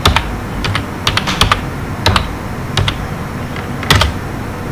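HTML code is typed on a computer keyboard in bursts of crisp, loud keystrokes with brief pauses between them. The typing is close and has no talk over it.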